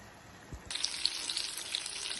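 Fish frying in a kadai, a steady broadband sizzle that switches on abruptly and continues loud and close, with no talking.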